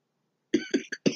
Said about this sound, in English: bad time for a cough